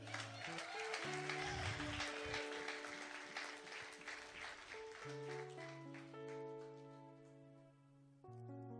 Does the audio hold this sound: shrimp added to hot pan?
no